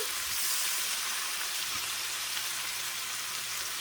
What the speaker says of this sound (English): So we have the cabbage here and the carrot sizzling.